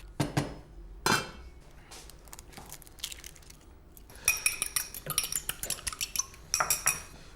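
Blueberries tossed into a pan of cooking apples, with a few sharp clatters followed by a rapid run of clinking, rattling hits of metal against the pan, close and fairly loud.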